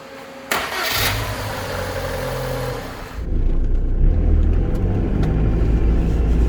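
A Rover 25 K-series engine turns over and catches, then settles into a steady, smooth idle, close by and fairly loud, in cold weather.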